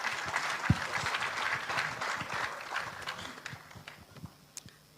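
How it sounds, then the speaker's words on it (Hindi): Applause for Sunita at a business talk fills the room with dense, sustained clapping from a crowd, loud at first and thinning out toward the end, with no one speaking. "एक जोरदार ताली सुनीता के लिए"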